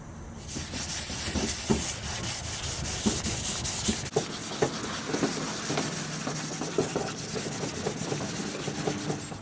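Hand sanding of a 1989 Dodge van's body with 320-grit sandpaper: close, continuous scratchy rubbing strokes in a steady back-and-forth rhythm with no talking.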